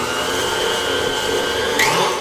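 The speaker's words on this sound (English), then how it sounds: "we're going to use my fancy borrowed mixer to whisk this together" A brand new electric mixer whisks butter and a cup of brown sugar together, a loud, steady motor whir with a high whine that shifts in pitch near the end as the beaters work the mixture.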